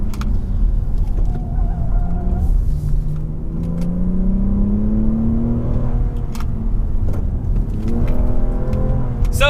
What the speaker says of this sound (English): The V6 engine also feels pretty good.